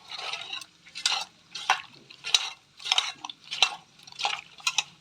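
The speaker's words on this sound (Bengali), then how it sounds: "দিয়ে ভালো করে লোটে মাছটাকে মাখাবো।" Lote (Bombay duck) fish is worked together with raw oil by hand, making a series of about nine wet, squelching, slapping pulses in a steady rhythm, close and fairly quiet, with no talking.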